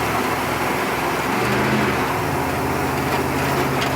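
A car with a Turbo 400 automatic transmission accelerates at medium throttle and shifts straight from first to third, its engine a steady loud drone that rises and changes pitch midway, with no talking.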